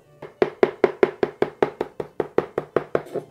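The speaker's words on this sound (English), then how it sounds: "start chopping." Flat leaf parsley is chopped with a knife on a board in a steady run of roughly fifteen crisp, regular thuds, close and loud with no talking.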